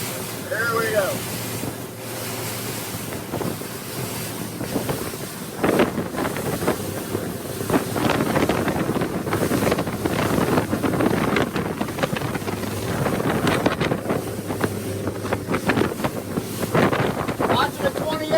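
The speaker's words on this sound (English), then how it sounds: "Watching a 28-foot boat cut like that, folks." A 28-foot Regulator boat runs fast past crab pots, its hull hissing and slapping through the water under heavy, gusting wind noise on the microphone, steady for the whole stretch.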